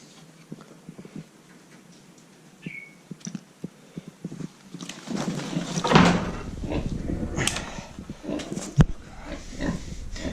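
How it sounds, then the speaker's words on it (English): Pig grunts and snuffling on a sheep farm amid clattering, bumping noises, growing busier and louder midway with a sharp knock near the end. "Quick, Nat, pig's gonna eat it"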